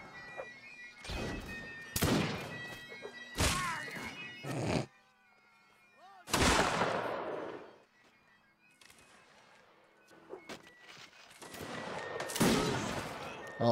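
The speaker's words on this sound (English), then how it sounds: "Oh, gotta love those pistols." Pistol fire in Mount & Blade: Napoleonic Wars: several sharp, loud gunshot bursts, some in quick doubles, separated by quieter gaps, with a voice talking in between.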